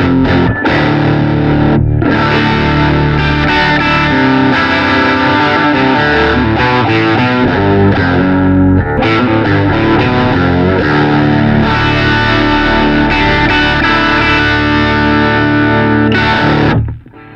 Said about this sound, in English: So as long as I play the sixth string on any one of the chords I play, I have the bass sound with the guitar sound.